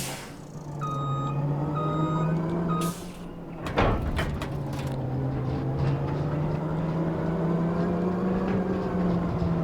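A truck in the Farming Simulator 25 video game reverses with steady repeating beeps over a rumbling engine, then an air brake hisses sharply and the engine drones on alone.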